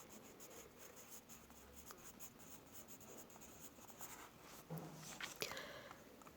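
A pen writes spellings in a classroom lesson, making soft, continuous scratching and rubbing strokes close by, faint and steady with a few sharper taps near the end and nobody talking.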